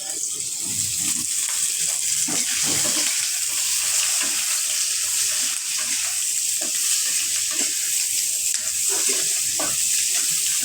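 Onion and garlic fry in oil in a pan while chicken curry is being cooked, giving a steady, loud hiss that runs unbroken throughout, with scattered stirring clatters underneath.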